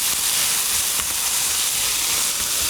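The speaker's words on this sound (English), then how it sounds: "Ooh, I like that sizzle." Balsamic vinegar and brown sugar sizzle in a hot pan with a loud, steady hiss that fills the whole moment without a break.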